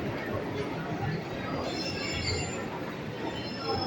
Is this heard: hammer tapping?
no